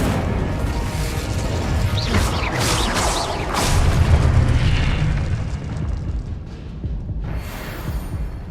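Incendio fire spell in Hogwarts Legacy, a loud whooshing burst of flame followed by booming, crackling blasts that swell around four seconds and then fade away.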